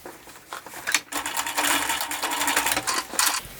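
Sewing machine stitching a few tacking stitches through the layers of a boy's bow tie, a close, loud burst of rattling mechanical whirring with short pauses and uneven bursts of speed.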